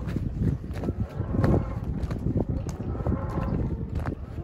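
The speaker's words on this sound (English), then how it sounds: "Look at this cute cow." A cow heard up close outdoors, with low mooing and rustling movement over steady background noise, no talk.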